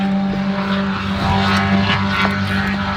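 Race cars thunder around the Daytona road course with a steady, loud engine drone carrying strong tonal hum, continuous across the whole stretch, no talk over it.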